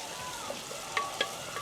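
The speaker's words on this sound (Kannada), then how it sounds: "ಫೈನಾಗಿ ಚಾಪ್ ಮಾಡಿರೋ ಬೆಳ್ಳುಳ್ಳಿ, ಮೆಣಸಿನ್ಕಾಯಿ ಸ್ವಲ್ಪ ಚೆನ್ನಾಗಿ ಫ್ರೈ ಮಾಡೋಣ" Finely chopped garlic and green chilies frying in a pan for garlic mushroom rice: a quiet, even sizzle runs throughout, broken by a few sharp spatula taps and scrapes near the end, with no voices.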